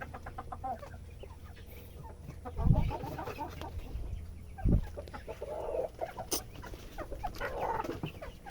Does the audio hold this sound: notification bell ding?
no